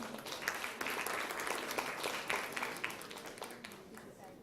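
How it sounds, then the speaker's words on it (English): Audience applause at a retail leadership summit, a broad continuous patter of many hands clapping for several seconds, fairly distant and gradually tapering, with voices mingling underneath. "A huge round of applause for Manisha."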